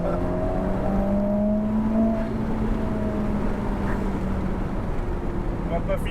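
A Ferrari sports car worth about 500,000 euros accelerates on an open road, its steady engine drone rising slightly in pitch from inside the cabin while voices talk over it.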